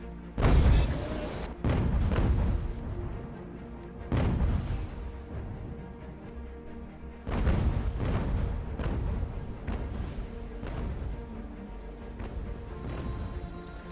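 Warships in the UGAR British campaign trade naval cannon fire at sea: roughly six heavy, booming shots arrive at irregular intervals, each with a loud attack and a long rumbling decay.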